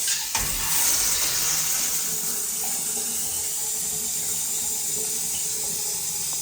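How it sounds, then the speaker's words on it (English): Cold water runs from a two-handle shower faucet, a steady, close hiss of flowing water that starts after a brief clunk and continues evenly throughout. "Now the cold water."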